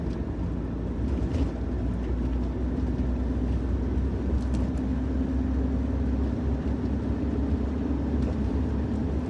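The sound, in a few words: car accelerating hard in fifth gear from 40 mph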